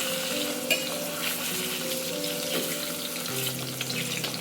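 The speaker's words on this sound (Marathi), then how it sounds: "तर मी अशा प्रकारे आधी पनीरला हे करून घेते आहे फ्राय ऑइलमध्ये" Paneer pieces frying in oil, a constant dense sizzle heard up close with no voices.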